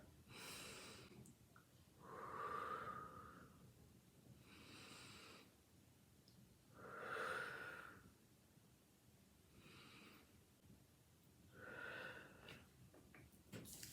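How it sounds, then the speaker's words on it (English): A person takes three slow, deep breaths, each a faint, close rush of air drawn in and then let out, spaced evenly with quiet pauses between and no speech. "Let's take 3 deep breaths."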